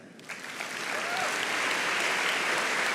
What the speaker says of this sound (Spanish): Fuerte las palmas para Mario Velázquez